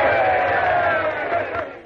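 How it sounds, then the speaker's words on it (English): A group of men in a 1945 western-era town raise a loud, sustained cheer for a young woman, a roaring crowd of voices holding for about two seconds before breaking off. "A cheer for the little lady."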